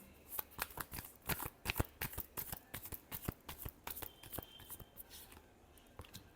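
Tarot cards are shuffled by hand in a quick series of crisp, close riffling snaps and slaps, repeated steadily and heard alone with no talking.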